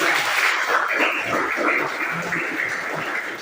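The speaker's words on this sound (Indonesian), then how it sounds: "tepuk tangan dulu" Classroom audience applauding during a teaching practice session at a university, a steady wash of many hands clapping at even loudness throughout.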